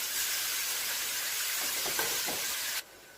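Spinach sautéing on low heat in a pan, a steady close hiss and sizzle with faint stirring scrapes, cutting off abruptly near the end, with no talk.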